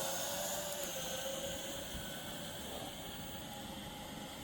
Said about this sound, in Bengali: ড্রোনটা দেখতে পাচ্ছেন আমরা অনেকটা উপরে তুলেছি